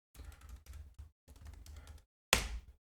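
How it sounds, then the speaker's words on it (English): Keys clatter on a computer keyboard as a password is typed, several quick bursts of soft taps separated by short pauses, then one sharper, louder keystroke near the end, close and quiet with no talking. "Now we accept the key and we have to type our password."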